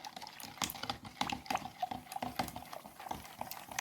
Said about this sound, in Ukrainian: Я сюди додаю соду, чайну ложку з горкою. Кидаю і розколочую, щоб утворилася піна.